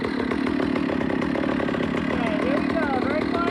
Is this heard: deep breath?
no